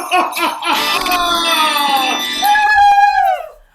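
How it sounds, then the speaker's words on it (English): Bright, ringing bell tones chime and sustain, sliding slightly and fading out at the end, close and fairly loud. "Talking about jingle bells!"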